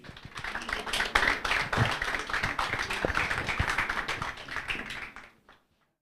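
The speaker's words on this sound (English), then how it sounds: "At least let's clap, okay?" An audience at a university moot court competition's award ceremony claps steadily for about five seconds, a dense patter of many hands that fades out near the end.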